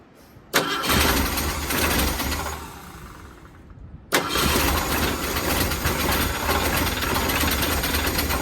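An engine cranks and catches twice, each time firing into a loud, rough run that sags before the next attempt, close and alone with no talk.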